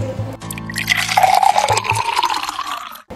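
Water poured into a glass in an indoor radio-drama scene, a short gurgling fill whose pitch rises as the glass fills over about three seconds, close and alone.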